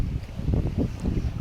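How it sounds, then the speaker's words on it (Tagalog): Strong typhoon wind during a storm in Talibon, Bohol, blowing steadily and roaring loudly against the microphone with gusty low rumbling and no voices. "Kusog kay hangin guys."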